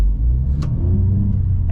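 A Mercedes-AMG CLA45S 2-liter turbo engine rumbles deep and steady at close range, with a low throaty growl and a faint rise in pitch.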